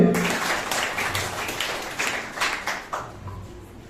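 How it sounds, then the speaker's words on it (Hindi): Students at a school gathering clap loudly and steadily in a continuous wash of applause, fading somewhat toward the end, with no talk over it. "एक बार जोरदार ताली"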